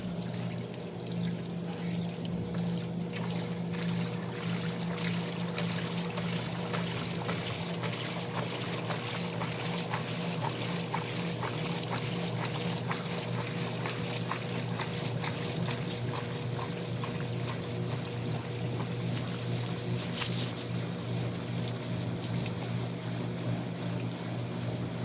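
Frigidaire Rollermatic washing machine in its spin cycle, a steady close mechanical hum with a sloshing, trickling water wash and rattling clicks running continuously.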